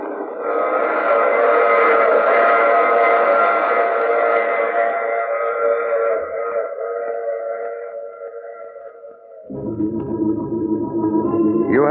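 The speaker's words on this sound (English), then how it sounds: "I take this same train every week at this same time." Radio drama train sound effect: a loud, sustained multi-tone whistle chord holds and slowly fades, then gives way to the heavy, rumbling run of the train, with no voices.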